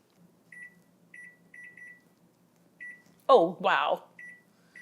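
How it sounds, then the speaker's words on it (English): Microwave oven running with a small dish of vegetables inside: a quiet low hum with soft, repeating electronic chirps, and a person's brief exclamation partway through. "I'm going to microwave them for 8 minutes."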